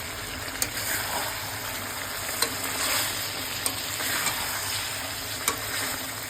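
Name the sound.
stirring and frying chicken curry with potatoes in a pan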